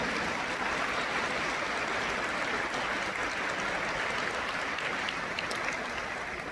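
Steady wash of audience applause at a talk on the history of beauty in art, sustained and even with no pauses, moderately distant and blended into a continuous rush.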